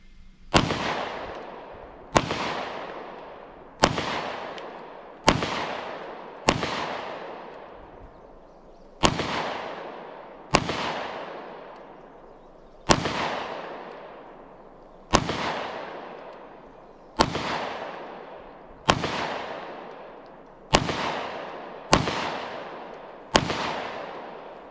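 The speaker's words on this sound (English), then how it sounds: "That is a fun gun to shoot." A Taurus G3 pistol fires about sixteen sharp, loud single shots at irregular intervals, each followed by a decaying echo as if outdoors, with no talking.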